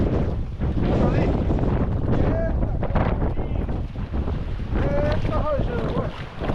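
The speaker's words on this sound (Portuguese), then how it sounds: "a rajada de vento agora tá agitado" Strong wind gusts buffet the microphone while kayak fishing on open water, a loud continuous roar with rushing waves, and someone speaks briefly over it.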